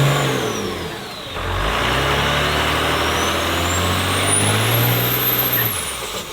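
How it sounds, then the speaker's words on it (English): A truck with a 12-valve Cummins turbo diesel, taken from a 1998 Ford F700 medium-duty truck and fitted with bigger injectors, injection pump and turbo, revs hard and loud, climbing with a rising turbo whine and then easing off. "this one has a 12-valve Cummins turbo diesel in it out of a 98 F700 Ford medium-duty pickup truck."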